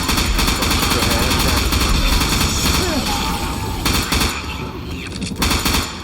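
Gunfire in the Left 4 Dead 2 video game, loud dense bursts of rapid shots firing almost continuously, with voices faintly mixed underneath.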